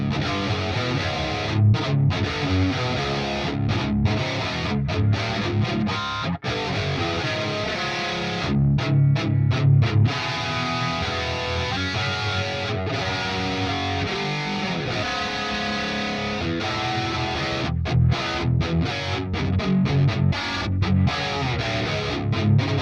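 A thick, distorted crunch lead electric guitar through a Fortin Nameless amp model on a Quad Cortex plays a driving riff, loud and sustained with brief stops between phrases.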